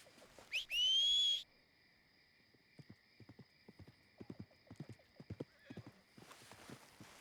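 In Red Dead Redemption 2, a sharp whistle calls a horse, which answers with a loud, close neigh before its hooves clip-clop in an uneven walking rhythm, with a faint high tone droning beneath.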